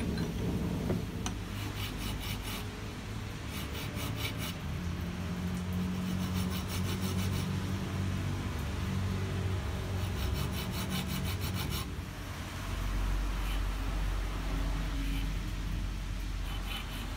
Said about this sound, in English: Be patient here when you file and test as you go